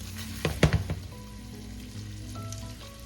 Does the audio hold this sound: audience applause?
no